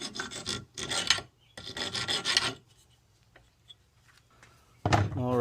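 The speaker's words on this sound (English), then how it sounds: "I'm just filing them smooth" Steel L brackets, freshly cut off, being smoothed with a hand file: two bursts of raspy back-and-forth strokes, close and fairly loud, then a quiet gap before a voice speaks near the end.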